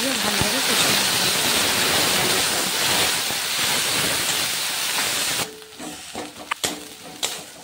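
Onion, garlic and cumin sizzle loudly in a pan for egg curry, a dense steady hiss that drops abruptly near the end to quieter clinks and stirring sounds.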